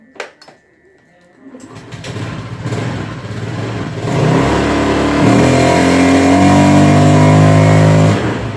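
A Honda Beat/Scoopy FI scooter, modified to fix sluggish power from a weak fuel pump, idles and then revs up loudly and close by as the throttle is twisted, its engine tone climbing and holding high.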